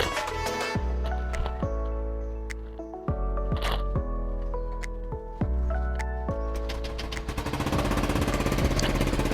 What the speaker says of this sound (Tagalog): hindi talaga buo yung tunog kasi nga kung napapansin nyo may singaw pa siya